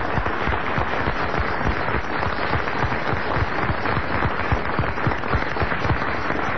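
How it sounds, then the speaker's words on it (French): A studio audience applauds in tribute to author Frédéric Dard on a French radio show, dense continuous clapping, loud and close, with no talk over it. "le cher Frédéric Dard, que nous allons applaudir une dernière fois"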